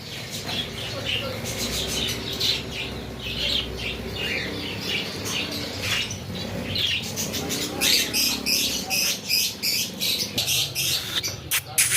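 A parrot squawks repeatedly in sharp, scratchy bursts that grow quicker and denser toward the end, close by, with people talking in the background throughout.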